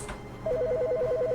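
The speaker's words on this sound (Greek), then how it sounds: "Ναι, πριν δεν ακούγονταν αυτό το τηλέφωνο." A telephone rings in The Stanley Parable video game, a rapid warbling two-tone electronic trill that begins after a short pause and continues steadily, fairly close and clear.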